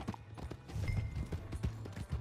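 Horse hooves clip-clop in Red Dead Redemption 2, a quick irregular run of soft thuds at moderate distance, fairly quiet, with no speech.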